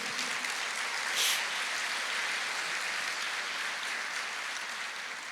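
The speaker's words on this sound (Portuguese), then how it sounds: "Glória a Deus, pode aplaudir." A church congregation applauds in a sustained wash of clapping, steady and fairly distant, filling the whole stretch without speech.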